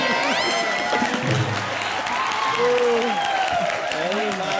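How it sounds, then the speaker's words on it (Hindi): A studio comedy show audience breaks into sustained applause with some cheering, a steady wash of clapping throughout, with a host's voice and faint music tones over it. "जोरदार तालियां।"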